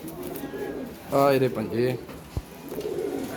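Pigeons coo in a short, soft burst of throaty warbling notes that comes up once in the middle, with someone speaking quietly around it.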